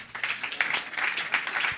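An audience at a gospel talent casting ceremony applauds a contestant, giving a dense, continuous patter of many hands at moderate loudness for a couple of seconds.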